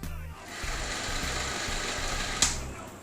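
A 16mm film camera with a bayonet lens mount running at 24 frames per second gives a steady, close mechanical whir and rattle with a regular fast rhythm, briefly interrupted by a sharp click near the end.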